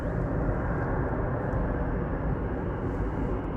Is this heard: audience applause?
no